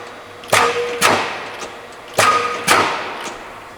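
Used Bliss O.B.I. 35-ton C-35 punch press cycling, sharp metallic thumps arriving in two pairs about half a second apart, loud and close, with a faint tick between them.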